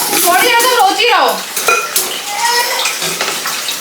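Dishes, pots and utensils clatter and scrape in a home kitchen, with a rapid run of close metallic clinks followed by scattered knocks and rattles, and a faint voice underneath.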